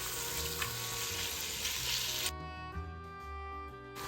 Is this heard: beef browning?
yes